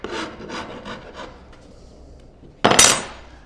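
A hand file rasping along the edge of freshly applied edge banding on a bathroom cabinet panel, several short rhythmic strokes close up, then one louder, longer scraping pass.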